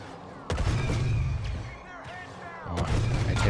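Blaster gunfire and explosive booms from Star Wars Battlefront 2 crackle in dense, loud bursts, dropping off in the middle before another heavy volley rings out near the end.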